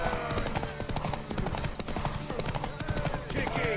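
Horse hooves clip-clop steadily at a contest where a crowd urges riders on, the rhythmic knocks repeating under loud cheering and shouted voices throughout.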